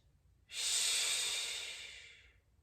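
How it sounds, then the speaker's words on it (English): A single long, hissing breath during a yoga session starts abruptly after a short silence and fades slowly over about two seconds, close and soft, sounding like a drawn-out "sh" exhale. "One more big breath in. Exhale, SH."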